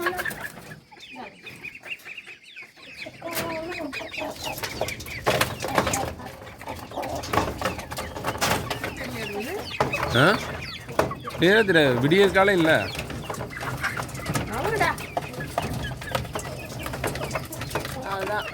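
Chickens cluck on a village garden farm at feeding time in the morning, several birds calling in irregular bursts at close range, mixed with other background noises while a person talks.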